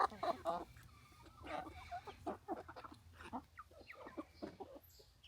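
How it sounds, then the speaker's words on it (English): A pet chicken clucks close by in a repeated run of short, busy clucks, with brief talking mixed in around it. "Good little chicken."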